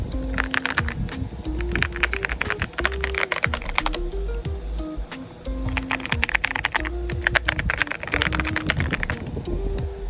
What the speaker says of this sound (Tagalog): At pakinggan nyo naman kung gaano kaganda yung tunog ng keyboard.